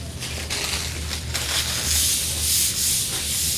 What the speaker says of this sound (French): Je vais nettoyer ma table en premier.